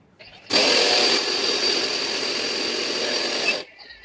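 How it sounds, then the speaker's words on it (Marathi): A kitchen mixer grinder blends a dry flour mixture of wheat flour, maida, rava, rice flour, sugar and salt for mathri. It starts abruptly with a loud, high whirring buzz, runs about three seconds, then cuts off. "या सगळ्या मिश्रणाला मिक्सरमध्ये मिक्स करून घेतलेलं आहे"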